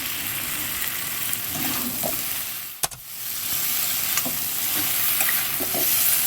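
Tolli greens are stirred into a pan of sautéed ingredients for an old-style leafy curry, giving a steady close frying sizzle with scraping stirs and a sharp clunk partway through; nobody speaks.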